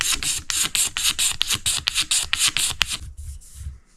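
A razor blade scrapes old finish off a Stratocaster guitar neck in quick repeated strokes, a close, dry rasping rhythm of short scrapes that stops near the end.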